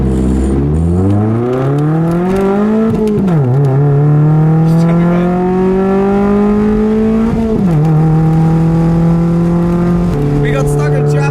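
A car accelerates hard from a standstill toward 100 km/h, its engine climbing loud and close. Rising revs are broken by three gear changes, each with a brief drop in pitch, with a steady drone between shifts and no talk over it.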